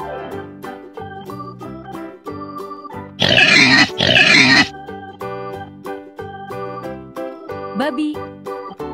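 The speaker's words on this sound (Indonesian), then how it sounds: "Pig." A pig grunts twice in quick succession, loud and close, over a bright, cheerful music track.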